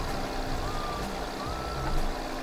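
A farm vehicle in Landwirtschafts-Simulator 15 gives faint, repeated reversing beeps, partly buried under a steady engine drone as it backs up.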